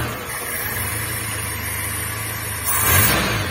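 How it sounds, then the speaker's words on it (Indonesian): A Suzuki T120SS car engine idles with a steady, even mid-pitched hum, then revs up slightly near the end; no one speaks. "Untuk kita coba langsung hidupkan mobilnya."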